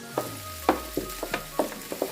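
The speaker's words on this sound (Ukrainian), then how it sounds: "ми наріжемо цибульку, під черевину також підкопчену на маленькі шматочки та обсмажимо на сковорідці" Chopped onion and smoked pork belly sizzle in a frying pan under a steady low crackle, with a handful of sharp utensil clinks and scrapes as it is stirred.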